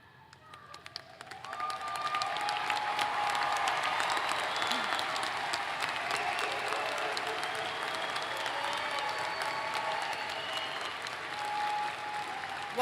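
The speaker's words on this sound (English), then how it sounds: "please hold your applause until the end of the next set of introductions" An audience at a university commencement ceremony bursts into applause, a broad steady wash of many hands clapping that swells within the first two seconds and then holds evenly, heard from a distance in a large hall.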